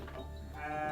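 A sheep at a sheep fighting contest in Priangan bleats once, a short, nasal, wavering call heard close over a faint background murmur.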